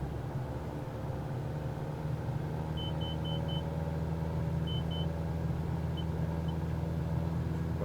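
A faint, intermittent electronic stall warning beep in a simulated aircraft cockpit, sounding in short repeated pulses over a steady engine drone.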